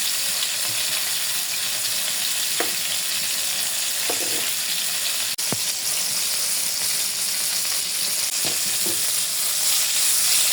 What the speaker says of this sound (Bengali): মাছগুলো ভাজা হয়ে গেছে এখন আমি উঠাই নেব